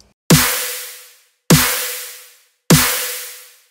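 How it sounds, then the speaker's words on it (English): Three identical dubstep-style snare drum samples hit one after another at an even pace, each a sharp, loud crack with a noisy tail fading quickly into silence. "Then we have like these snares,"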